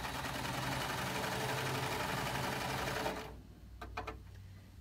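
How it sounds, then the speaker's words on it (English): Sewing machine or serger running a seam through four layers of a garment cuff, a continuous close, buzzing whir for about three seconds that stops abruptly, followed by a few light clicks and handling noises. "Sew that with your appropriate seam allowance,"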